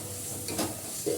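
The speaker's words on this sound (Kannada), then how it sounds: "ನೋಡಿ, ಎಣ್ಣೆಯಲ್ಲಿ ಅದನ್ನು ಫ್ರೈ ಮಾಡ್ಕೋಬೇಕು." Tempering for mango pickle frying in hot oil, a steady close sizzle with a couple of brief soft stirring scrapes, short and without speech.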